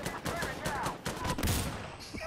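Rapid gunfire in Insurgency: Sandstorm, a dense burst of repeated shots in an urban street fight, loud and cluttered with a brief swell near the end.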